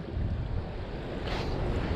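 Strong wind of about 24 miles an hour and 5 to 6 foot whitecap waves at Fort Pierce Inlet in Florida, a continuous loud roar of wind buffeting the microphone over rushing surf, with no talking.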